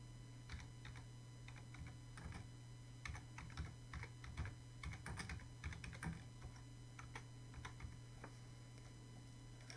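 Quiet, steady typing on a computer keyboard as an address is entered, irregular clusters of soft key clicks over a low constant hum, close and alone.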